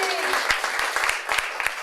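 Audience at a comedy club at the Purple Onion applauding a stand-up comedian, scattered claps with some sharp individual hits, fairly close and moderately loud, with a voice heard among them.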